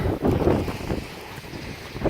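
Gusty wind buffets the microphone in rough, low rumbling surges, with no voices present.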